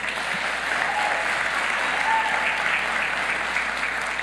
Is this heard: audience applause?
yes